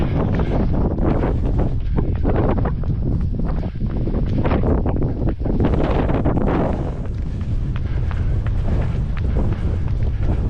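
Strong wind roars continuously across the microphone on a curving mountain road where bighorn sheep graze, loud and gusty throughout with no talk.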